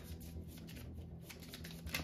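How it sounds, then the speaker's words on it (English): Playing cards being shuffled during a card-based game session, a steady papery riffling texture lasting about two seconds under low background music, with a slightly sharper flick near the end. "we'll shuffle that up because hopefully we'll get it again"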